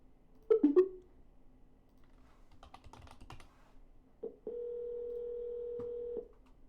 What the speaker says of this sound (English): No answer, we're going to double dial.